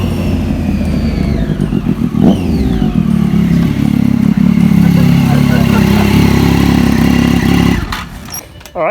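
A Triumph Daytona motorcycle engine revs nearby, rising and falling in pitch through loud throttle blips over a steady rumble before cutting off near the end, with voices talking over it.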